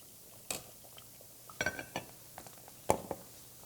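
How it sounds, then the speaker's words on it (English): Stuffed artichoke soup ladled into a bowl, a few quiet clinks of ladle against bowl and pot, sparse and close, with no talk. "We are ready to ladle this up."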